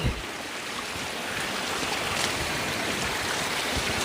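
A waterfall in a forest: continuous rushing water, a broad steady roar like falling water nearby, with no voices.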